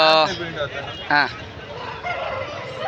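A rooster crows loudly at a busy native chicken market in Mydukur, Kadapa, with a second shorter crow and clucking amid crowd chatter and background voices.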